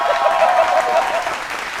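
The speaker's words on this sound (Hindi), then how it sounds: "एक बार और बजा दीजिए तालियां, मुझे बड़ी खुशी होगी।" Audience applause for a poet at a televised political poetry show, a brief, loud burst of clapping that fades slightly toward the end, with a voice faintly audible over it.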